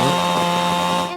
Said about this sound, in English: they're going to go in with chainsaws